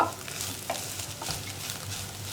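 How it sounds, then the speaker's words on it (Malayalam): Bitter gourd thoran is stirred in a pan over a soft, steady frying sizzle, with faint scrapes and light taps of the spoon now and then. "നന്നായിട്ടൊന്ന് ഇളക്കുക."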